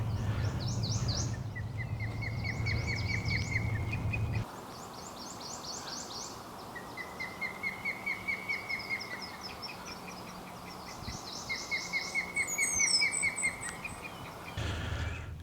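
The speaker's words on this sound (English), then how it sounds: "And there's an osprey in it calling." An osprey calls near water at Dutch Gap, repeating its series of high, thin chirping whistles in rhythmic bursts at a moderate distance over steady outdoor ambience.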